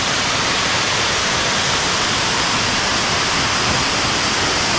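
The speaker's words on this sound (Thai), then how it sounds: "ด้านหลังนู้นนะครับน้ำตกค่อนข้างจะน้ำเยอะเต็มที่แล้วนะครับ" A full-flowing waterfall, Salat Dai at Khao Hua Muak in Thailand, pours in a loud, dense, unbroken rush that fills the scene, close by and with no voices over it.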